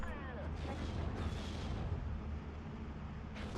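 A mortar barrage in Steel Division 2 rumbles as overlapping booms and blasts, a dense muffled roll of explosions continuing throughout under someone talking.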